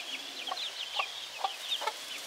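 Several chickens cluck in short, scattered bursts over a soft steady background hiss, fairly close and moderately loud.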